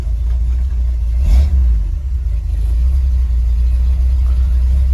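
A 1970 Ford F100 truck drives along with a steady low engine rumble and road drone, one brief surge where the gears shift, heard from inside the cab.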